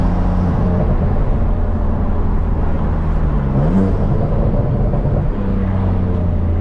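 BMW M3 with manual gearbox drifting and spinning in third gear, engine droning loud and steady close up under heavy road and tire roar, pitch sliding down briefly and then levelling off.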